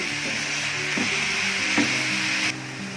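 Chicken frying in a pan partway through cooking, a steady broadband sizzle with a few soft stirring scrapes, close and continuous, dropping slightly in level near the end.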